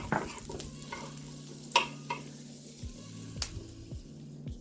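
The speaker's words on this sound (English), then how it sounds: "I'm going to saute the onion and the garlic." Onion and garlic sautéing in a teaspoon of oil in a pot, a soft steady sizzle broken by a few sharp stirring clanks and scrapes, no talking.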